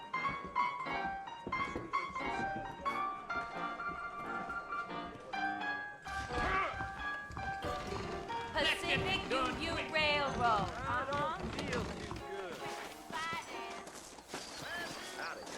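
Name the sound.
horses trotting in video game Red Dead Redemption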